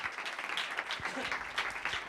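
Light applause from a small audience at an acoustic concert, moderately distant, clapping steadily while voices talk faintly underneath.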